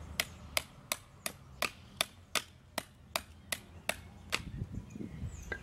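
A hammer repeatedly striking the back of a machete to drive it through wood, about a dozen sharp, evenly spaced metallic knocks close by, fading into softer handling noises at the end.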